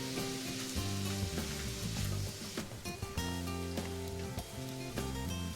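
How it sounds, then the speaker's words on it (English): Seasoned ground meat browning in a hot pan for stuffed acorn squash, a continuous crackling sizzle with occasional stirring clatter, fairly close but moderate in level. "we're going to throw this on the pan, brown it up"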